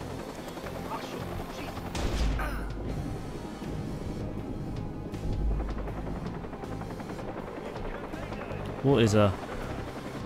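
A police helicopter hovers overhead in the video game Watch Dogs, its rotor drone steady under gunfire and chaotic action while a voice speaks briefly.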